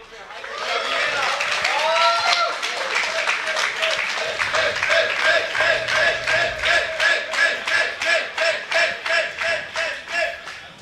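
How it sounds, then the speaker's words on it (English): A live esports tournament crowd cheers and claps for StarCraft player Hero Marine, building from a roaring cheer into loud rhythmic unison clapping that pulses steadily, with a commentator talking over it. "As the crowd is hyping him up."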